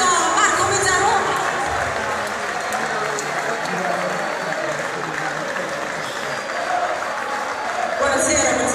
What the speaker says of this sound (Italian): Facciamo un applauso a Marco Mezzaroma.